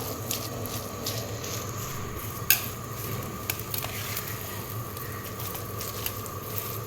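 Cooked rice ada is tipped into boiling milk for palada payasam, with soft steady bubbling and a few sharp clinks of a utensil against the pot, close and without speech.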